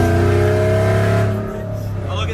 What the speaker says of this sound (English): Nothing screams Denali like a straight pipe 4-inch exhaust from Texas Speed